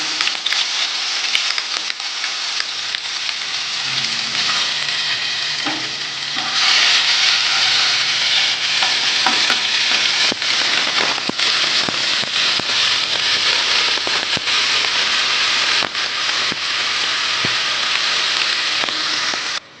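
Cumin paste sizzling loudly in hot oil for tel koi fish curry, a bright continuous hiss and crackle that holds steady throughout with occasional sharp pops, close up and without talk.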